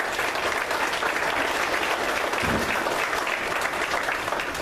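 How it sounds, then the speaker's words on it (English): Audience at a Berks County community meeting giving a steady, dense round of applause, many hands clapping continuously at even volume throughout. "I think they all deserve a round of applause"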